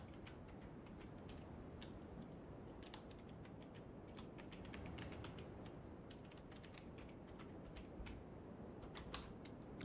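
Someone types on a computer keyboard to see whether it still works after an angry moment: quiet, irregular clicking keystrokes, some in quick bunches and some spaced apart, run throughout over a soft background hum.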